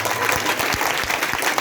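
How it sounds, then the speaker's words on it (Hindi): An audience at a preacher's gathering claps loudly and steadily for under two seconds, a dense wash of hands with a few sharper individual claps standing out. "आखिरी दफा तालियां जोर से बजा"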